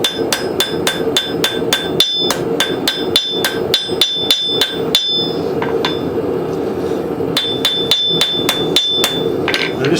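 Steady run of sharp, ringing hammer blows on hot metal while forging a woodcraft tool and working an even bevel, struck close in quick regular bursts with brief pauses between sets.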